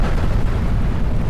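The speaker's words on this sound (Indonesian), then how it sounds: "Waduh, meledak guys." A loud, sustained explosion rumbles in a Skibidi Toilet animation, a dense roar of blast noise filling the whole moment with no talking.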